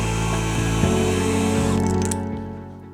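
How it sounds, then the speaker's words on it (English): Power drill boring a hole through a model railway layout in a garage, a steady loud whirring grind with brief dips in pitch as the bit bites, then tapering off near the end. "So I'm going to try drilling my hole"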